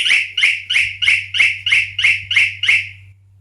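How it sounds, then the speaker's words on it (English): A bike alarm's motion sensor sets off a run of nine high electronic chirps in an even, quick rhythm, loud and close, with a low steady hum beneath them. "So if I try to go near the bike, it will detect it and it will chirp at me."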